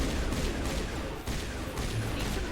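Dense, continuous gunfire from the video game Mass Effect, a rapid rattling fusillade with no pauses over a couple of seconds.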